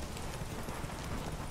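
A horse gallops in The Witcher 3: Wild Hunt during a race, its hoofbeats a fast, even patter heard faintly and continuously under a noisy background.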